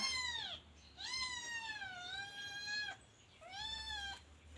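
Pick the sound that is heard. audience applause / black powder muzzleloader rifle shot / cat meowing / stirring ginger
cat meowing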